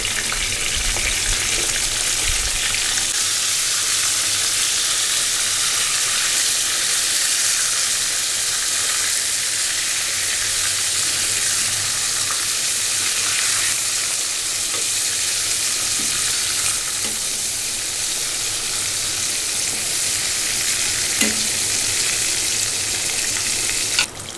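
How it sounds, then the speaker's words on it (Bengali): Eggplant pieces frying in oil in a pan give a steady, loud, continuous sizzle and hiss, with faint stirring clinks and no voices. "হালকা করে বেগুন ভেজে নিতে হবে"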